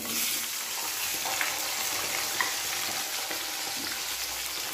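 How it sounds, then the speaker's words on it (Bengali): Cut raw plantains frying in hot oil, a steady dense sizzle with a couple of faint stirring clicks, close and continuous with no voices. "এখন আমি আবারও এই একই তেলের মধ্যে কেটে রাখা কলাগুলোকে ভেজে নেব"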